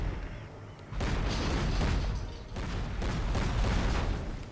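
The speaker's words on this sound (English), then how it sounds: "But Genmaster's tank, look how much faster it fires. Fires insanely quick." Rapid, booming tank cannon fire in Command & Conquer: Generals Zero Hour, a dense run of loud explosive shots in quick succession with a short lull near the middle.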